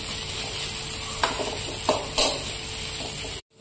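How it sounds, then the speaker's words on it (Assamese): Lentil dumplings fry in a pan with salt and turmeric, a steady broadband sizzle running throughout with a few sharp scraping stirs of a spatula, close and fairly loud, no talk, cutting off abruptly at the end. "এনেদৰে অকণমান সময় ভাজি থাকিম"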